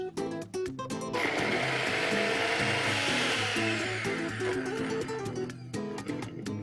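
An electric kitchen grinder whirs up to a loud, steady high-pitched motor whine as it purees ginger and curd into paste, running for several seconds before winding down, with rattling clicks at the start and end.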